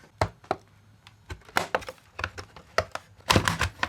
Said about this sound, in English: You gotta kinda sneak the screwdriver in there and pry it up a bit.